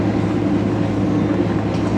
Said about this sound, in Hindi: ट्रेन हमारी 9 बजे सांगला हिल रेलवे स्टेशन पे अप्रोच बना रही है।